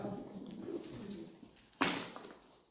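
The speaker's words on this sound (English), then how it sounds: "Pigeon." A pigeon coos softly up close on the grounds of former RAF Upwood, a low murmuring call under faint background noise, ending in a sudden brief rustle like a wing flap.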